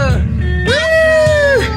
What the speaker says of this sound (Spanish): El gato, el gato, el gato.